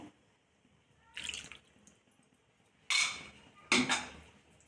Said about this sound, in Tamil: இதில் கொஞ்சமாக தண்ணி சேர்த்து